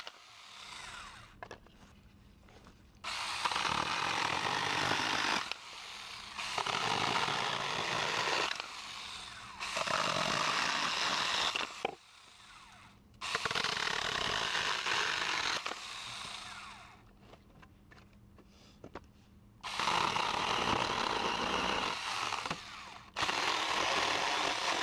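A cheap cordless mini chainsaw cuts old pallet wood in repeated loud bursts of buzzing, separated by brief quiet pauses, heard close up with no talking.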